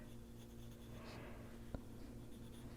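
A walnut brown colored pencil shading on paper in an adult coloring book, a faint, soft continuous scratching with one small tap, very quiet and close.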